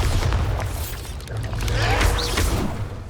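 Spell blast from the Bombarda charm in Hogwarts Legacy on PS5, a loud sustained rumbling boom with crackling debris and a rising whoosh, lasting about three seconds with heavy low-end.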